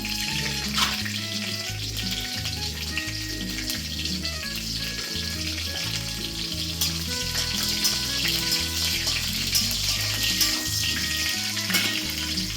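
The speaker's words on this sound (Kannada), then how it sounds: "ಸ್ವಲ್ಪ ಸಾಸಿವೆ ಹಾಕ್ಕೊಳ್ಳೋಣ. ಸೊ ನೋಡಿ, ಚಟಪಟ ಇವಾಗ." Mustard seeds crackle in hot oil in a wok-style pan for noodles. A dense, steady frying hiss fills the whole stretch, with sharp scattered pops over a low background hum and no speech.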